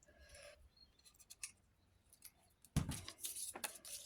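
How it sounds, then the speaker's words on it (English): Scissors cutting paper at a craft table, faint snips and rustles at first, then a louder run of crisp cutting strokes close by, with no talk. "I'm going to cut that at 4 inches"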